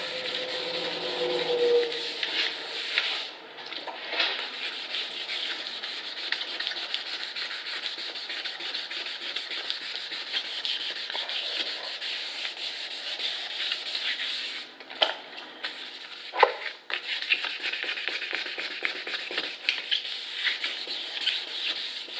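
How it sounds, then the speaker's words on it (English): Steady rhythmic rubbing of sandpaper on a plastic headlight lens, close and fairly quiet, continuing with brief pauses. "I'm sanding it in nice straight lines where I can."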